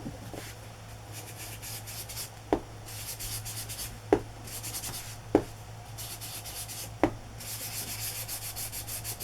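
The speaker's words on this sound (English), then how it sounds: "gonna take some wild honey and rub it over to bring out the embossed design." Soft, steady rubbing of wild honey over an embossed Victorian paper calling card, a continuous close scratchy swish with a few sharp taps spaced through it, with no talking.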